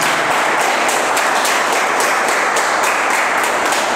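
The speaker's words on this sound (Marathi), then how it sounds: "एकदा स्वतःसाठी जोरदार टाळ्या वाजवा" Trainees in a speech-training session clap loudly for themselves. The close, dense applause keeps a fairly regular pulse for the whole four seconds, with no talking.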